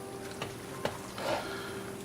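Palak spinach chicken curry with masala and tadka being stirred in a pot, soft scraping and wet shuffling strokes with a light sizzle underneath, close and fairly quiet.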